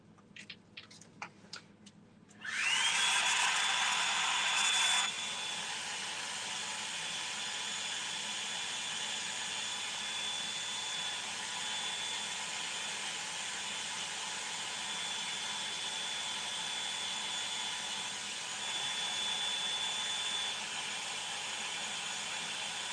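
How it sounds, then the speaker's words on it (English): A hair dryer blasts steadily over wet watercolor paint on paper, switching on after a few clicks and running as a loud, even whoosh with a thin whine above it. "I'm going to hit this really, really quickly with the dryer"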